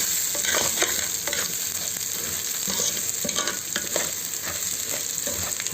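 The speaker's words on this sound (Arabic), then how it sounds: "انا هسيبه كده في الزيت، هفضل اقلب فيه شوية عشان يبقى مفلفل كده" Rice fries in hot oil while being stirred, giving a continuous crackling sizzle broken by repeated scraping strokes of the spoon, close and moderately loud, with no voices.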